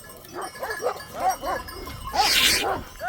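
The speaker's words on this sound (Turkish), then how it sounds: "Dışarıdan bir köpek gelmiş." A stray female dog at a village in Turkey barks in a rapid run of short, close yelps and bow-wows, followed by a louder, harsher burst near the end.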